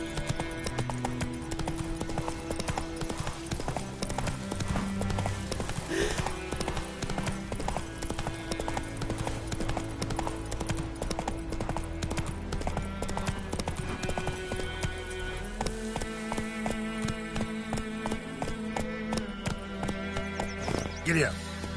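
Horse hooves clip-clop steadily in The Witcher 3, a rhythmic gallop running throughout over a dense bed of game music, with an occasional whinny and a voice calling out to urge the horse on.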